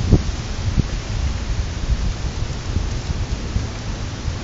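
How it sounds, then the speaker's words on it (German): A heavy thunderstorm over Düsseldorf/Mettmann pours steady, loud rain with deep low rumbles of thunder rolling underneath, constant and close throughout. "Ein richtiges Unwetter,"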